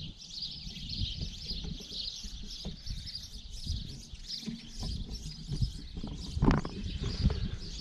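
Birds chirp steadily outdoors on a quiet Sunday at a small brick window renovation site, a continuous high twittering chorus with occasional nearer calls over faint low background noise.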